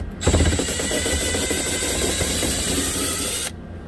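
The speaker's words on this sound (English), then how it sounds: "So I bought this little ratchet the other day that works really good for this type of scenario here." A small 90-degree drive ratchet spins out 7mm bolts inside the dash of a 2013 Ford F150, producing a close, steady mechanical whirring rattle for about three seconds before cutting off, with no speech.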